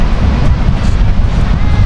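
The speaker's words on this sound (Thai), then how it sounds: "ลมเย็นลมพัดเย็นมากเลยครับ" Cold wind gusting at a seaside campsite in Chumphon, Thailand, a steady loud low rumble of air buffeting the microphone throughout, with a faint wash of sea beneath it and someone talking over it.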